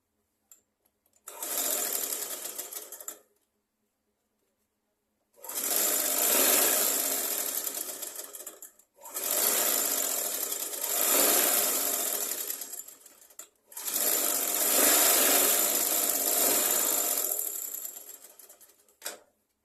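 A sewing machine stitches the side seam of fabric in four separate bursts, each running steadily for a few seconds before stopping, close and fairly loud with no talking.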